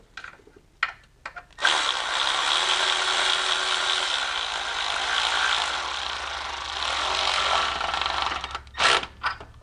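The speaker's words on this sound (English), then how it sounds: "as we tighten that mounting plate on, it's going to push the little cups back into the perfect position" A power ratchet or tool runs in a long continuous whirring burst while the timing chain mounting plate is tightened on a BMW E46 M54 engine, framed by a few short clicks and taps before and after.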